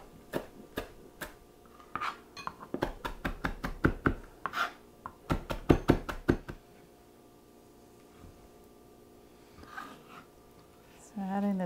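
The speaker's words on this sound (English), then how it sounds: "Also has some fresh parsley, and I'm going to chop it up." Fresh parsley is chopped with a knife on a cutting board, a quick run of crisp, close rhythmic taps in two bursts, followed by quieter handling sounds.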